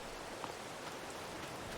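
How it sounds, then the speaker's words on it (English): Spring rain in a farming video game falls steadily on snowy ground, a soft continuous hiss of drops at low level, with no voices. "looks like we got some spring rain"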